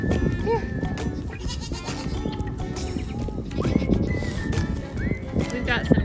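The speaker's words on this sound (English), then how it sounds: "We've got some teenager goats right now" Young goats on a farm bleat several times, near and loud, with short wavering cries scattered through the clip as people talk over them.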